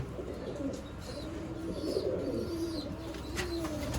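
Teddy pigeons coo softly and repeatedly at close range, low rolling calls overlapping one another, with faint chirps above and no talking.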